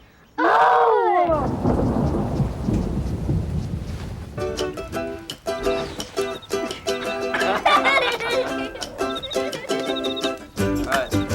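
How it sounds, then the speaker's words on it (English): Thunder booms loudly at the start and rolls off, giving way to heavy rain; a bright musical or chiming pattern then plays over the storm. "Looks like it's gonna be raining the whole weekend."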